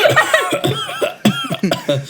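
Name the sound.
imitated wheezing cough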